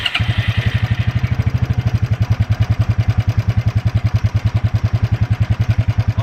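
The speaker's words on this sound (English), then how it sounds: "start this thing up, or your ATV up, and let it run for 5 minutes or so just to get that oil warm" A Suzuki King Quad 300 ATV engine idles close by, a steady rapid thumping putter with an even, unbroken rhythm throughout.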